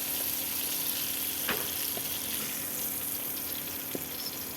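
Pointed gourd (potol) lightly frying in a pan makes a soft, even sizzle, fairly quiet, with a few faint pops and clicks.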